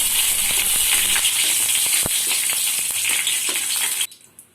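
Dried red chillies and halved bay leaves fry in oil in a kadai, giving a bright, close sizzle with scattered pops that stops abruptly near the end.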